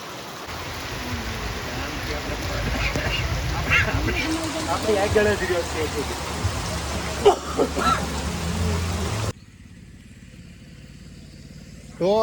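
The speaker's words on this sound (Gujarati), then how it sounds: "આ રીતનો કંઈક વરસાદ ટપક ટપક ટપક ચાલુ છે ને રોડ આખો પલાળી નાખ્યો" Steady rain patters on a road surface near Gir with a motor rumbling past, then the wash drops away and a faint drip continues before noise returns.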